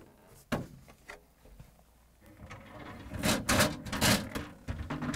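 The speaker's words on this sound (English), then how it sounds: "Next, I'm going to remove both drawers," Plastic drawers are pulled out of a GE refrigerator's fresh food compartment, giving a thump followed by sliding, rattling and clunking sounds that grow busier and louder toward the end.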